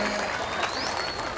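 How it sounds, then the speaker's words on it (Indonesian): A short stretch of dense crowd applause at an Islamic New Year religious gathering, a continuous even hiss of many hands without distinct individual claps, with a faint whistle-like tone drifting over it. "Tepuk tangan telat."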